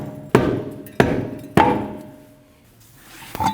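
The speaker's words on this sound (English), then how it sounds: "If your wheel doesn't want to come off, you can hit it with a rubber mallet from behind." A rubber mallet strikes a stuck front wheel from behind on a 2013-2019 Ford Escape, giving three sharp, close thuds in quick succession, then a softer knock after a pause.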